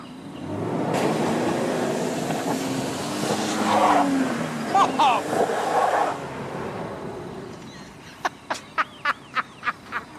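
A car reverses out of mud on an African dirt track, its engine roaring close and loud, rising and falling in several bursts before fading, then a string of sharp, evenly spaced knocks.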